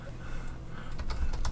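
Rapid clicking of computer keyboard keys being typed on, a quick burst of keystrokes close to the mic over a low steady room hum, growing a little busier toward the end.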